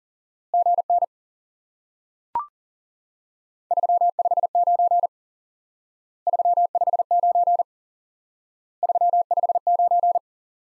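A pure Morse code CW tone sounds near a steady pitch, sending the same single element repeated in four short bursts of rapid beeps with silent gaps between them, plus one faint isolated click.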